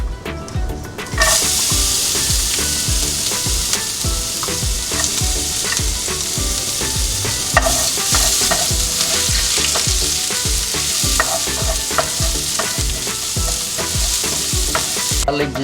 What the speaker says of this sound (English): I'm putting a couple of tablespoons of oil, and then we're gonna put ginger and garlic julienne.